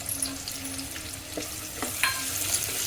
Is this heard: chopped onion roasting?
yes